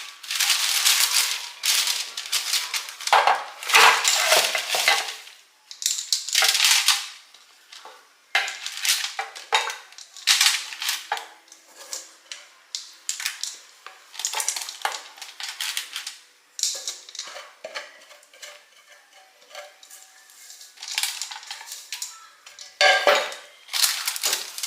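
Frozen chocolate chips being stirred into a thick homemade granola bar mixture in a bowl, producing irregular bursts of scraping, clicking and clattering that come in uneven waves, close by and moderately loud with no talking.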